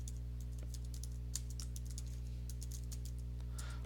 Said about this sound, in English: I'm going to type in my name here.